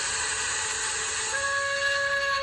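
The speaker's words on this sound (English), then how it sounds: "wheeshed and set off an old steam whistle" An old steam whistle blows with a broad, breathy hiss, then steadies into a loud, sustained multi-tone shriek that holds to the end, with no voices.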